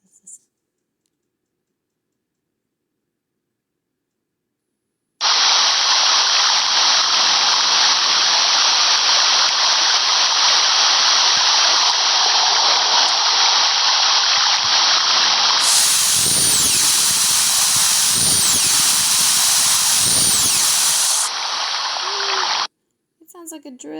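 A dense, rapid train of high-pitched narwhal clicks recorded underwater in a Greenland fjord buzzes continuously, with watery sloshing and thumps joining partway through before it stops abruptly.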